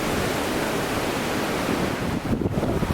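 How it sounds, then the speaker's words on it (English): Steady broadband rush of a river flowing beside hot springs at Rincón de la Vieja, Costa Rica, loud and continuous, with faint rustling and small irregular splashes toward the end. "there's a river behind me where fresh clear water comes"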